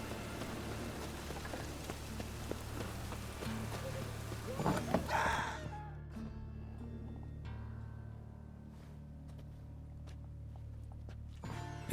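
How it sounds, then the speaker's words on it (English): Steady rain patters across a Witcher 3 game scene, a soft continuous hiss. Around the middle it is broken by a brief louder scuffle, and faint clicks and clip-clop-like taps sound in the background. "Mad running around in this rain."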